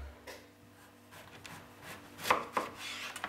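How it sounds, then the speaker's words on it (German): A knife trimming the dry outer edge off a celery root on a cutting board, heard as a few quiet scraping strokes followed by two sharper cuts near the end. "Den Sellerie schneide ich hier die äußere trockene Kante ab."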